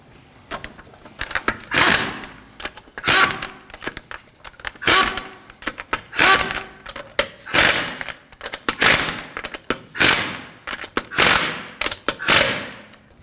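Lug nuts snugged down on a Subaru XV Crosstrek wheel, a series of bursts of rapid metallic ratcheting in regular pulses about every second, loud and close with no talk.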